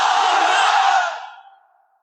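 Large crowd at a Bengali religious sermon shouting takbir in unison, one loud sustained chant that fades away.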